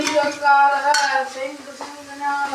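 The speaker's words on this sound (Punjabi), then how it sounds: "ਇੱਥੇ ਮਟਰ ਪਨੀਰ ਨੂੰ ਤੜਕਾ ਲਾਉਣ" Oil sizzles in a pan while a matar paneer tempering is stirred, with scraping and clinking over a steady hiss; a voice hums tonally throughout.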